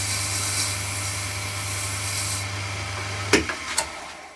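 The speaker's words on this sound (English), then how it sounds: "So the synthetic pad just burnishes it a little bit." Steady, close rubbing hiss of a synthetic pad burnishing wax onto a wooden spindle spinning on a lathe at about 450 rpm over a low motor hum, ending in a few sharp knocks as it stops.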